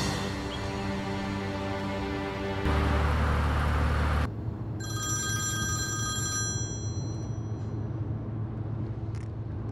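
A telephone rings while a call is being placed, with repeated electronic ring tones and a low hum partway through, then tonal chirps toward the end; no talking.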